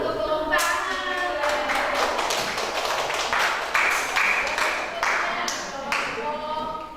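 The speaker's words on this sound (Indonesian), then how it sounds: "Untuk tepuk tangan." A classroom audience claps together after a group presentation, a dense patter of hands rising and falling close by with a few voices mixed in.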